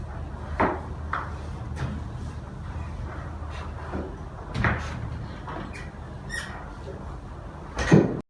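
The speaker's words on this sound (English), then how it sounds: "Secretary, can you please close the door?" A meeting-room door squeaks and bumps shut amid shuffling and scattered knocks, ending in a firm close, with murmured voices in the background.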